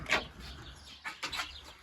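A few short, nasal hen clucks sound close by, spaced irregularly with brief pauses between them, over a quiet background.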